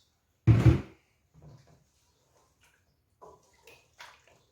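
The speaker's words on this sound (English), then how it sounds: "I'm gonna add in some bit of water again. It's a bit thickening too fast." Water pours into a pot of thickening chicken curry on the stove, a short loud splash followed by several quieter sloshes and clinks spaced apart, close by with no talk.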